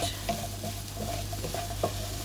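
Turnip stir-fried in a hot pan gives a quiet, steady sizzle, broken by soft scraping and tapping as it is stirred, with no talk over it.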